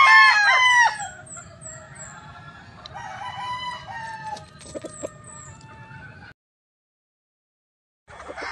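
A gamefowl rooster crows loudly once, followed by softer clucks and distant crowing, a brief silence, then noise resumes at the end.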